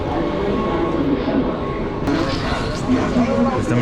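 Mumbai local train at Santacruz station, with a steady mechanical rumble and brief higher squeals under an ongoing voice, heard from close by.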